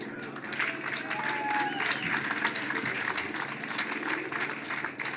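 Sustained applause from a sizable crowd at the Caltrain electrification groundbreaking ceremony, steady and dense clapping throughout with a faint murmur of voices underneath.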